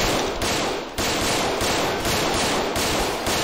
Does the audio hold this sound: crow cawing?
no